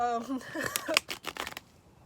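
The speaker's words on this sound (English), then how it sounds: "I'm gonna try to shuffle these up." Oracle cards are shuffled by hand in a short, fast riffle of papery flicks and taps, fairly close, with a voice speaking briefly at the start before the cards take over.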